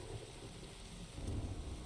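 A thunderstorm in the video game The Riftbreaker: steady rain hiss with low, rolling thunder rumbling underneath, swelling a little toward the end, with no talking.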